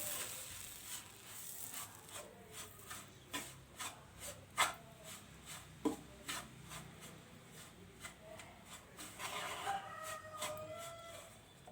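Oats laddu mixture being stirred and mashed with two spoons of milk, giving soft, repeated scraping and rubbing strokes against a bowl, faint and close, with a few sharper knocks.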